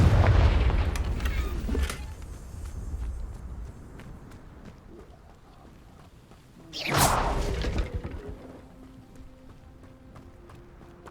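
In the Hogwarts Legacy game, a Confringo spell explosion lands as a sharp, loud burst about two-thirds of the way in, after a heavy rumbling start and a brief whoosh, with quieter game sounds between the impacts.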